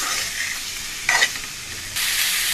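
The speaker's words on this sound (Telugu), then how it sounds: "టమాటా కూడా ఆయిల్లో మనకు ఒక 5 minutes ఫ్రై కావనివ్వాలి." Chopped tomatoes fry in oil in a pan for egg masala curry, a close, steady hiss with a brief louder stir and then a renewed sizzle.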